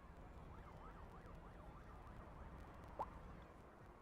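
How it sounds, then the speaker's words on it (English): Emergency vehicle siren in the city-building game Cities Skylines 2, a faint, distant wailing tone rising and falling steadily over a low traffic hum, with one brief click near the end. "There's some sirens somewhere."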